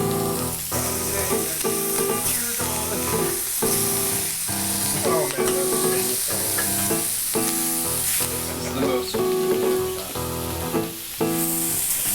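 Steak searing in a clean pan with no oil, only its own fat, giving a constant bright sizzle and spitting hiss close by, with repeated clinks and scrapes of a utensil moving the meat.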